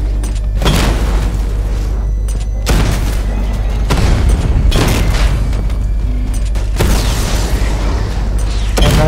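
A weapon fires in Batman Arkham Knight, heavy booming discharges landing every couple of seconds, each a loud, close thump. A low rumbling bed runs steadily between them. No one speaks.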